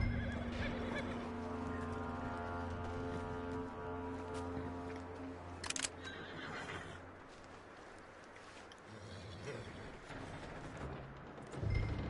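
In Red Dead Redemption 2, a horse gives a loud, drawn-out neigh over clopping hooves and a steady background rumble, then the scene settles into quieter ambient game sound.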